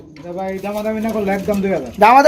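Pigeons coo in deep, throaty, rolling calls close by at a crowded pigeon market, several overlapping coos in quick succession, loud and near.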